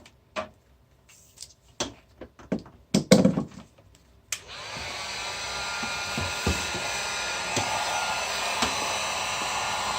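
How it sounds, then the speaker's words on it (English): Several sharp clicks and knocks, then a Harbor Freight heat gun switches on and blows hot air with a steady, close whooshing roar while working on a Corvette C4 engine control module; no talk. "my heat gun that I got from Harbor Freight"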